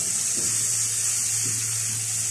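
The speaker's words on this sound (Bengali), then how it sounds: "এবার আমি এর মধ্যে দিয়ে দেবো জল।" Water poured into a cooked mustard spice paste for a winter fish curry gives a steady, even hiss with a faint low hum beneath it, lasting the whole moment with no voices.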